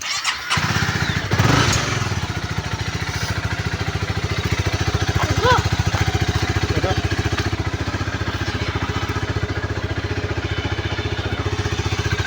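A motorcycle engine runs with a steady, throbbing putter for the whole stretch, close and continuous, with a revving swell near the start.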